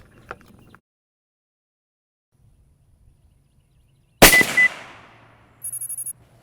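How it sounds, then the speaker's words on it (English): A single sharp 6BR rifle shot is fired down range on a quiet range, a loud close crack that decays quickly, followed by a short electronic beeping. "Let's see where shot number 1 goes."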